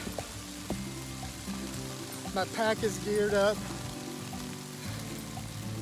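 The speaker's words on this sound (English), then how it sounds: "it just unleashed. It's pouring down" Heavy rain pours down on the Pigeon Roost Trail in Arkansas, a steady broadband hiss that runs through the whole stretch while someone talks close over it.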